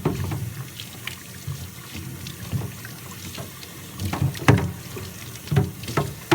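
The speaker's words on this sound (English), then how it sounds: "We could rinse it thoroughly, under a tap, your garden hose, pressure washer, however you want to do it." Running water splashes over a grit guard as it is rinsed in a wash bucket, a steady close gurgle with irregular louder sloshes and spatters.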